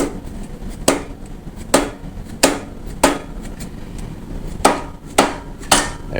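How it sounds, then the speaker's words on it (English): A dead blow hammer strikes a Harley-Davidson rocker box to break it loose, landing seven sharp, separate blows at uneven intervals. The hits are close and loud, and no one speaks. "we're going to take our deadfall hammer and give it a couple pops just to see if we can break this loose"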